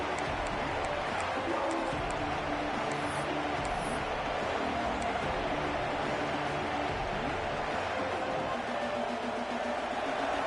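A large stadium crowd roars steadily throughout, a dense wall of cheering and chatter with no breaks.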